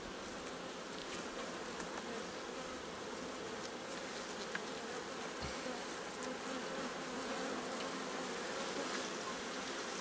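Honeybees buzz around an open beehive in summer, a continuous soft droning hum from many insects with occasional closer passes, faint and steady without talk.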